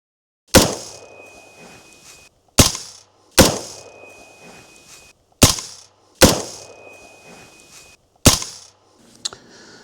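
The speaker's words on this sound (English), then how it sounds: "back in the house after taking a few shots on the range" Five suppressed rifle shots fired on an outdoor range through a Surefire .30 caliber silencer, each a sharp crack with a short decaying tail, spaced a couple of seconds apart, followed by a faint metallic clink.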